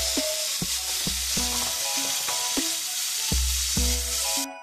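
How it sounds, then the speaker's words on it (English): Ground beef frying with green pepper, onion and garlic sizzles loudly in a close, steady hiss, broken by sharp spatula knocks against the pan as the meat is broken up and stirred. "You want to continue to cook your ground beef until it's all the way ground."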